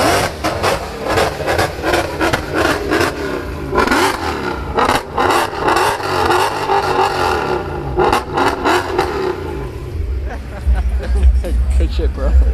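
A car engine revs at the Strada Car Show among a noisy crowd. Loud, repeated revs rise and fall close by over background chatter, and people talk near the car.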